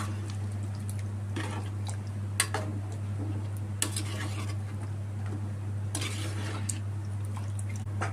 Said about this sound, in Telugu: వాటర్ పోసుకున్నాక ఒకసారి కలుపుకున్నాము